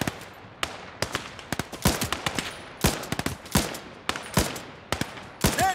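Rapid bursts of Maxim machine gun fire in the WWII game Gates of Hell: Ostfront, loud sharp cracks repeating in clusters across a pine forest battle with other gunshots mixed in, no talking.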